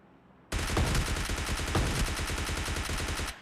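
Rapid shotgun gunfire in PUBG Mobile Lite, a loud burst of blasts fired in quick, steady succession for about three seconds after a brief quiet start.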